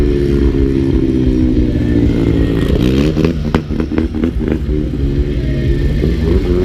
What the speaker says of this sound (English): Sam Shackleton on the pommel, the old Super M or the H, against Jeremy Hannon in the sled he calls a Shockwave